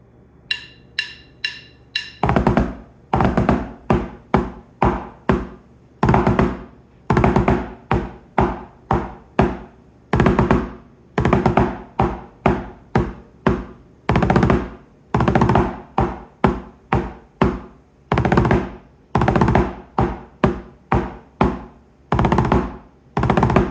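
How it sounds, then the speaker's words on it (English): Snare drum playing the British Grenadiers March after four quick count-in clicks, crisp close rolls and flams in a steady marching rhythm throughout. "Next, play the Grenadiers March one time through along with me."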